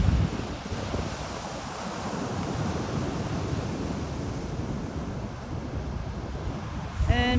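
Ocean surf and wind at Trinidad State Beach make a steady, loud roar of breaking waves mixed with rumbling wind buffeting the microphone throughout.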